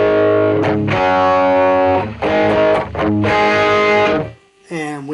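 Distorted electric guitar through a BOSS eBand JS-10 with clean boost overdrive plays sustained overdriven chords in a few phrases, followed by a short bending lead note, in a 1970s style.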